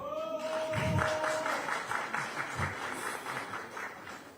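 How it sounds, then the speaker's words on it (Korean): Sustained applause from an audience at a political gathering in Yeonggwang, a dense, steady patter of many hands at close-to-mid distance, with a brief tone at the start. "박수 쳐주는 거 보니까요"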